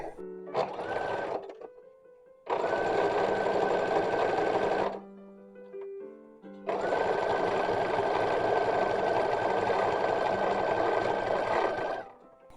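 A sewing machine stitches two cotton fat quarters together for an 1860s-style cloth doll project, running in two long loud steady bursts with a brief whirring start and short pauses between, no talking.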